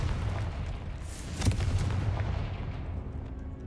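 A Confringo spell in Hogwarts Legacy erupts as a dull, heavy blast over a constant rumbling roar, with one sharper crack standing out near the middle.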